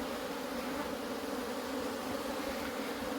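Honeybees hum at a hive frame filled with incoming aloe pollen, a dense, steady, close buzz from many insects that holds without pause and carries no talk.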